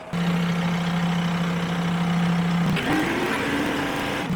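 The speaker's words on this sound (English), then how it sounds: "This is an old school auger I bought used and probably needs sharpened or the teeth replaced." An old used tractor-driven auger bores into dry clay, a steady engine drone with a constant mechanical hum that shifts pitch partway through as the load changes.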